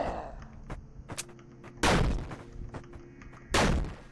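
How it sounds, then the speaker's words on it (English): A grenade explodes in the blocky shooter game Murder Miners: two loud, sharp blasts a couple of seconds apart, set against scattered smaller gunfire-like pops and clicks. "I just am throwing a grenade in this little hole"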